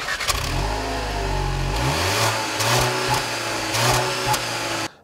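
A 2014 Volkswagen Jetta's 1.8 liter front-wheel-drive engine with a 6-speed automatic accelerates hard, its steady loud drone rising in pitch, dropping briefly at shifts, then climbing again before cutting off abruptly; no one speaks.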